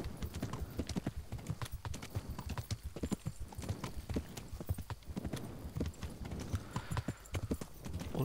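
A horse's hooves clop in a steady, brisk rhythm while riding in the medieval game Kingdom Come: Deliverance, close and fairly quiet with a little ambient noise.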